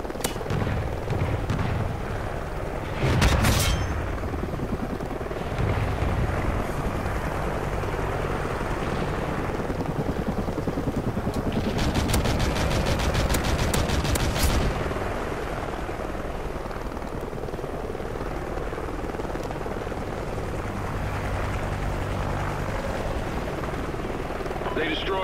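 A helicopter in the shooter game Call of Duty: Ghosts holds a continuous rotor drone throughout, with bursts of gunfire and crackling effects around a few moments. Game voice lines play over it.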